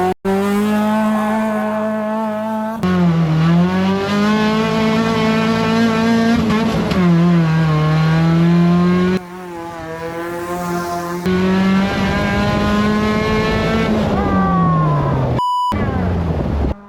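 Cheap track-ready race car engine howling loud and close, pitch climbing through long pulls with abrupt gear-change breaks, a steady roaring drone dominating throughout with no voices.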